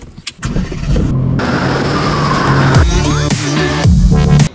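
A Mercedes-AMG GT R engine starts up close: a quick crank, then a loud flaring roar that settles into a deep idle, followed by sharp revs rising and falling before cutting off.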